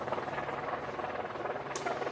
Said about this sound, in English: I think I hear a helicopter overhead.